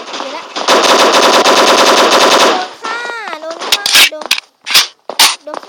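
Rapid automatic gunfire from the mobile shooter game Block Strike, a long sustained burst followed by short separate volleys, loud and close, with voices talking over parts of it.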